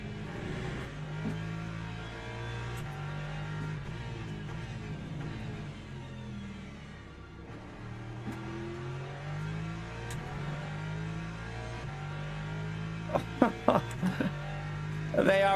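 Hypercar engines in the Le Mans Ultimate racing game rise and fall through repeated gear shifts, with a steady mid-pitched whine and sharp clicks near the end, under a player's voice.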